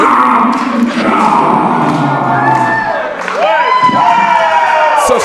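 Pro wrestling show crowd at a Championship District Wrestling event cheering and whooping loudly throughout, with rising shouts and scattered yells under steady loud crowd noise.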